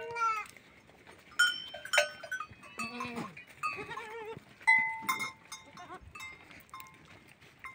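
Goats bleating on a farm where goats and sheep are kept: a series of short and drawn-out calls from several animals, fairly quiet and spaced irregularly, with no talking.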